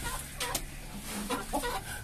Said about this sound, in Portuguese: vamos ver as galinhas do homem